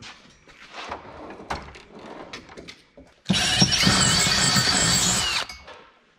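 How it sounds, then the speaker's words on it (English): A power drill whines loudly for about two seconds drilling metal for a turbo header on a Honda S2000, preceded by scattered knocks and handling clatter; no voices. "Well, this one's gonna need drilled a little bit."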